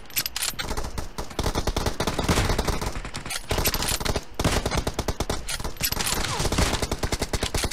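Sustained automatic fire from an M416 assault rifle in PUBG, loud rapid bursts hammering almost continuously, broken only by a few brief gaps between strings of shots.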